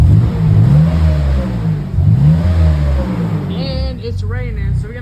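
A BMW E39 converted into a drift car runs with a loud, rough idle that rises and falls in revs, while someone talks over it.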